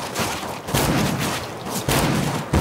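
Revolver shots in the video game CS:GO, several loud sharp reports a second or so apart, each followed by a sustained burst of noisy tail, close and alone without talk.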